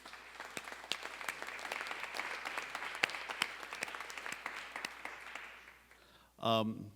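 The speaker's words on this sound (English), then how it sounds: "let's ask him to rise in another round of applause for Howard Teich, please." An audience at a Manhattan hall of fame awards ceremony claps in a steady, fairly distant round of applause that fades toward the end, after which a voice begins to speak.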